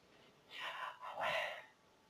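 Two breathy exhalations, a voice imitating breath to sound the divine name Yahweh, soft and close in a quiet sermon setting, the second slightly longer than the first.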